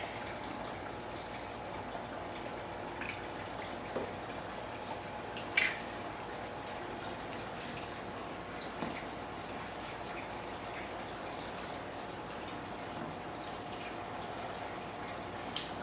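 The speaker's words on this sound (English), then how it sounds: "I'm going to go ahead and mix half of this quart of half and half to the peach." Half and half being poured and stirred into peaches for homemade ice cream, a steady faint liquid trickle and sloshing that runs throughout with one brief clink midway.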